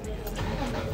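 A roughly 30-year-old BMW E36 with a newly fitted exhaust muffler is started, giving a short, steady low engine rumble that stays fairly even and swells slightly at the end, with voices talking over it.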